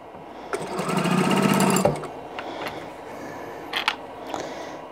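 A sewing machine stitches a quilt block in a steady, rapid mechanical run lasting about a second and a half, then stops. A few faint clicks and handling sounds follow.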